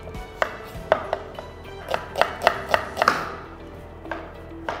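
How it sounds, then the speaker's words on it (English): A kitchen knife slices through an onion on a cutting board in a series of crisp, evenly spaced taps, close and clear, with a short pause before the last few cuts. "We're gonna cut onion."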